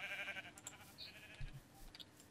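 Sheep in Minecraft bleating in short blocky bursts, a couple of quick game-sound calls heard faintly over a low background hum.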